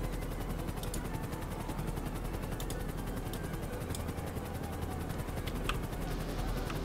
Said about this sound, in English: We're gonna use helicopters now.